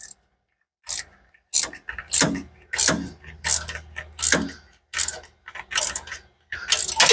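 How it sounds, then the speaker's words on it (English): Ratcheting wrench clicks in repeated bursts, close and crisp, while a reducer bushing is fitted into the oil feed of a GT45 turbo on a Mustang. "we're putting a reducer bushing in our little 45 up in there"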